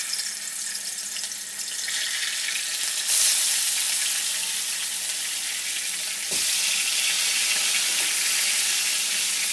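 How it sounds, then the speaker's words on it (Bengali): Tilapia fish pieces drop into hot refined oil, and the gentle sizzle swells into a loud, dense crackling hiss that holds steady with a second surge a few seconds later. "এবারে তেলের মধ্যে মাছগুলোকে দিয়ে দিচ্ছি।"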